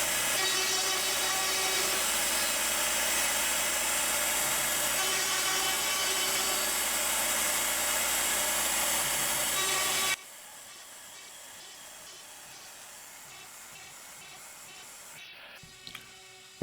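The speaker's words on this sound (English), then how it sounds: "The machine will now drill all the holes." A CNC machine drills holes into plywood with a continuous, loud, buzzing whir for about ten seconds, then stops abruptly, leaving faint room noise and a small clunk near the end.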